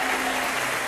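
Brief burst of studio audience applause on the French TV game show Tout le monde veut prendre sa place, a dense loud clapping wash with no pause.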